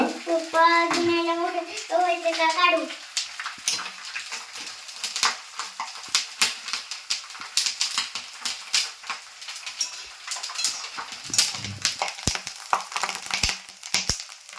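Nylon poha chivda frying in hot oil, a steady crackling sizzle with sharp pops and stirring clatter after a brief burst of speech at the start.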